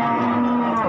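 A single cow at the Pasar Wage cattle market in Pati lets out a close, sustained low moo that holds steady for under a second.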